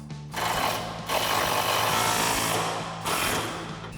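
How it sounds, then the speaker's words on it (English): Pneumatic-style impact wrench with a 19mm socket tightening a nut on a 2009-2018 RAM 1500 lowering kit, two loud sustained buzzing bursts close by, the first about two seconds long and a shorter one near the end. "We're gonna grab our impact with a 19mm socket and a 19mm wrench and tighten that down."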